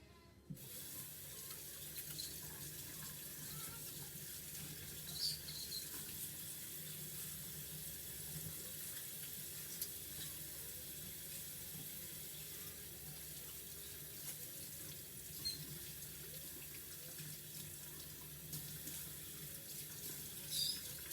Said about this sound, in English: Alright, so I will clean my hands again.